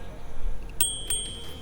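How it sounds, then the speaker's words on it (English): A stock bell on a YADEA ElitePrime electric scooter rings twice in quick bright strikes, the second ding lingering, loud and close over a low background rumble. "The bell here is actually really nice."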